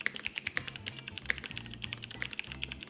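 Fingers type on a QK101 full-size mechanical keyboard with a flex-cut aluminum plate, giving quick, muted, irregular key clacks up close, alone and fairly quiet.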